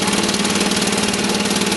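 Small single-cylinder engine idling steadily up close, a continuous loud chugging with a slight pulsing vibration and no voices.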